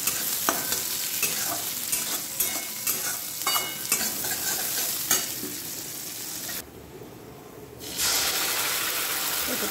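Paneer fries with whole cumin seeds and onion in a pan, a steady sizzle broken by repeated stirring scrapes and taps, briefly dipping quieter before the frying noise returns.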